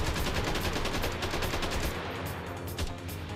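Gunshots in the game Jack Styler, a loud rapid string of automatic fire rattling continuously at close range, briefly dipping before a final shot.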